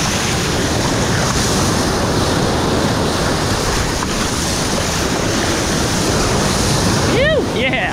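Ocean waves breaking near a seawall, a loud continuous wash of surf and wind noise close by, with a short whoop of a voice near the end.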